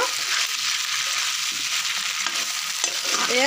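Potatoes fry steadily in a hot pan for a mutton curry, giving a dense, continuous sizzle with a few soft scrapes of stirring and no voice over it.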